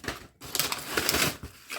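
Paper packaging around cosmetics is unwrapped and handled up close, a quick run of crisp rustles and crinkles in short bursts over less than two seconds.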